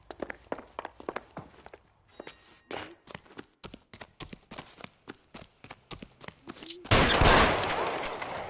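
Gunfire in the LA Noire video game: a string of separate sharp shots at an uneven pace, then a loud sustained burst of noise near the end, with no talk.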